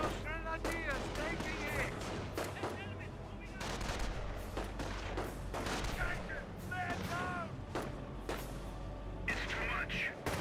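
Gunfire in the real-time strategy game Company of Heroes 1 crackles in repeated bursts and single shots over a battlefield, mixed with distant booms, while a commentator talks throughout.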